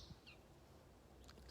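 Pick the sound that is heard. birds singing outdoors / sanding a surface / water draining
birds singing outdoors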